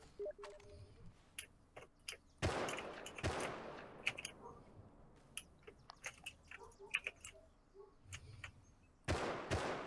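Gunfire in the survival game Rust cracks out in scattered, uneven single shots and short bursts. Some reports sound close and loud, others distant and faint, with quiet gaps between them.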